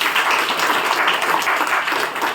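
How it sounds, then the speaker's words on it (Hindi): A classroom audience applauds loudly, a dense, steady wash of many hands clapping at once for a couple of seconds without a break. "जोर से ताली बजाओ।"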